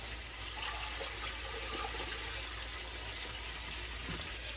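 Cold water poured into a pot over corned beef, a steady continuous gushing wash of liquid heard close up and alone, holding even throughout.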